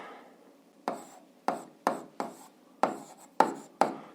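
A pen writes on paper during an eighth-grade algebra exercise, making about seven separate, evenly spaced scratchy strokes close by in an otherwise quiet room.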